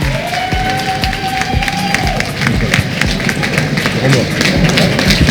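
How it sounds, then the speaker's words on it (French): An audience at an award ceremony for a negotiation competition applauds and cheers the winners; dense, sustained clapping and crowd noise carry throughout, with voices talking over it. "On les applaudit bien fort."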